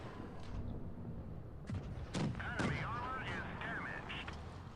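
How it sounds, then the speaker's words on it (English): Tank cannon shots from a Matilda, a Tier 4 British medium tank, in the mobile game World of Tanks Blitz, firing as sharp booming reports over game noise, with a voice talking in the background. "we are just pounding the shots into him"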